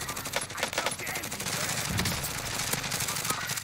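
Rapid gunfire from a Warzone match, bursts of shots crackling densely over a noisy battlefield background at moderate distance, with no talk over it.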